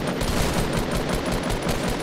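Rapid automatic gunfire in the Fortnite video game: a steady, rhythmic stream of close, loud shots with no talking.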